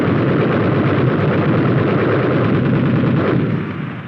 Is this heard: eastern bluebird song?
no